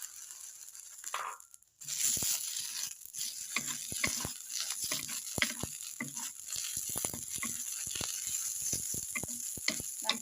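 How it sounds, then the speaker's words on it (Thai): Fresh chilies dry-roasting in a pan for a spicy meatball dipping sauce, giving steady crackling sizzle and scattered sharp pops after a brief quiet start. "ใส่ไปเลยนะคะพริกสดก็คั่วนะคะคั่วไปด้วยกันนะคะ"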